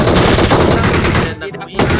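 Rapid bursts of automatic gunfire in PUBG Mobile, loud and close, dense shots that briefly drop out before resuming.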